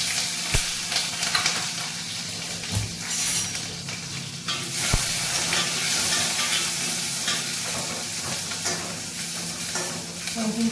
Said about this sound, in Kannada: ಮೆಣಸಿನ್ಕಾಯಿ ಸ್ವಲ್ಪ ಫ್ರೈ ಆಗಲಿ.